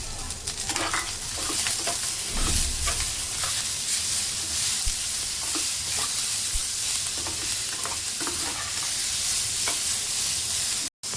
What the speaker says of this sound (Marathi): कांद्यामध्येच आता आपल्याला टोमॅटो भाजून घ्यायचा आहे।